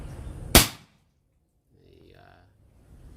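A single sharp, loud PCP air pistol shot at about 1100 fps and 3500 psi cracks early, followed by quiet and faint background sounds.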